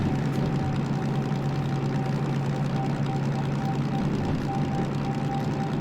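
A DM3 diesel locomotive engine in the train simulator game Derail Valley runs at a steady drone near 700 RPM, a loud continuous low hum with a faint gearbox whine above it, unbroken throughout.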